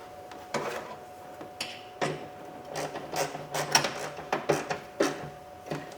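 A serrated nut being tightened down by hand gives off a run of close, irregular metallic clicks and scraping ticks, with no voices.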